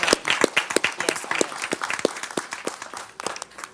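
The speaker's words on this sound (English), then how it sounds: "give them a round of applause for their professional development" Audience applause at a school board business meeting, honoring staff recipients for professional development; dense, steady clapping from a nearby crowd, sustained throughout without speech.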